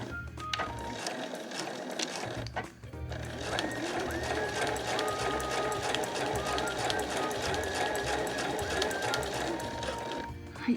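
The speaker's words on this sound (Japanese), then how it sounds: "ここはねもう線書いてあるので、この線の上ゆっくり縫いましょう。" A sewing machine stitching a smartphone pochette with a zipper pocket runs in a steady fast mechanical whir with rhythmic needle chatter, close and continuous after a brief pause near the start, while someone talks over it.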